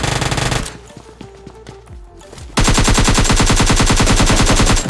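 Uzi submachine gun in a battle royale video game firing loud rapid automatic bursts, one at the start, a short lull with lighter game sounds, then a long sustained burst.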